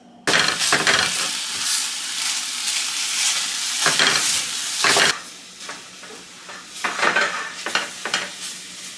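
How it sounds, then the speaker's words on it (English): Vegan ground meat with minced onion browning in a pan: a loud, close sizzle with repeated scraping bursts as a utensil breaks up the crumbles, dropping to a softer fry partway through before more brisk stirring strokes. "Now you're just going to let this brown, get it nice and crispy and into little tiny pieces."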